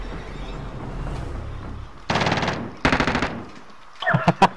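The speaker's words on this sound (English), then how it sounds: "He's shooting at him." Rapid machine-gun bursts from a video game come in several loud, clipped volleys, with sharp single shots crackling near the end.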